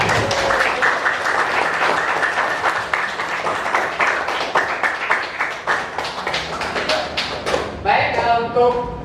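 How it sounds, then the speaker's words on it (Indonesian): Classroom applause from a group of pupils, dense rapid clapping that carries steadily for several seconds, loud and close, before thinning out near the end as a voice speaks. "Ya, tepuk tangan dulu untuk semua."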